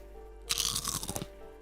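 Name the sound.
biting crunchy kettle-cooked jalapeno Lay's potato chips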